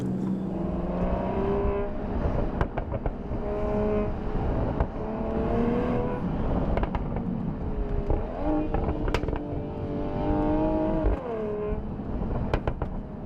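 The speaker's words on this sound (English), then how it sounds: "the sports exhaust, and that has flaps, so you can influence from a more sporty to a more... How emotional it is." A Mercedes-AMG GLE 53 Coupé with a flap-controlled sports exhaust rises and falls through the revs while being driven, its engine note climbing in pitch through each gear with crackles at the shifts, loud and close throughout.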